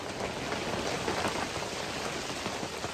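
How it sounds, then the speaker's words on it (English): Freezing rain pours down near an outdoor wood yard during an October cold snap, a dense, steady hiss of icy drops pattering on surfaces, loud and continuous without pause. "Do you hear that? It's like coming down in sheets of ice. Freezing rain."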